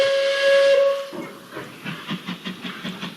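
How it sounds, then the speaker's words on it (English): A steam locomotive's whistle sounds loud and sustained for about a second as a heavy passenger train sets off, followed by steady rhythmic chuffing that grows more distinct. "he blew his whistle"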